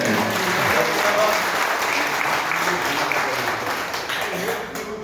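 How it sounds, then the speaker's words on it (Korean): An alumni association gathering applauds a member of parliament with sustained, dense clapping from a crowd, loud at first and tapering slightly, with voices faintly mixed in. "큰 응원의 박수 부탁드립니다"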